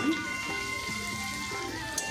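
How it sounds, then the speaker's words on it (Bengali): Onions frying in a pan make a soft, steady sizzle with a light, even crackle throughout, fairly quiet and close. "ব্যাস ভালো করে পেঁয়াজগুলো ভাজ"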